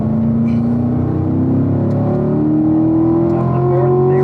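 A race car engine drops to third gear and revs, its steady tonal whine rising in pitch across the stretch, loud and close like in-car sound, with no talking.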